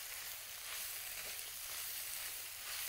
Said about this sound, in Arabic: نيجي نحمر المشروم